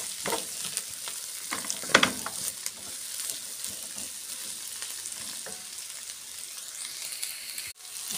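Garlic and nutmeg sauté with meat in a pan, giving a soft constant sizzling hiss with occasional stirring scrapes and knocks, fairly quiet and steady, nobody speaking.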